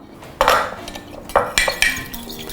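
An egg with hot sauce being whisked in a bowl with a fork or whisk: several sharp clinks and scrapes against the bowl in quick, uneven bursts, close up and without speech.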